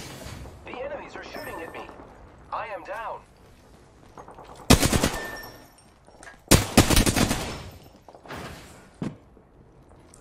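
Gunfire in the video game Apex Legends: several loud, sharp bursts of shots, some in rapid clusters, break in between stretches of someone talking.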